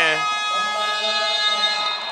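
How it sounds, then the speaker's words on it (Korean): Buzzer sounding in an indoor gym to end the first half of a youth under-11 basketball game, a steady harmonic electronic tone lasting about two seconds, loud and close, over faint crowd and announcer noise. "결국 부저가 울리면서 양 팀의 전반전이 종료가 됐습니다."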